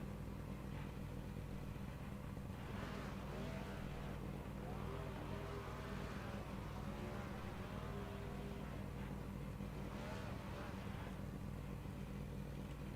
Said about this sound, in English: Look at those burnouts.